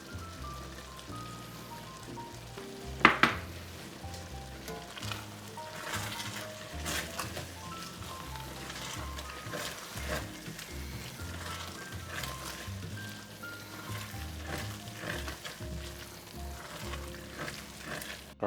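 Shredded cheese stirred into a simmering one-pot homemade Hamburger Helper, a soft steady sizzle and bubbling with occasional scraping stirs and one sharp clink near the start, under background music.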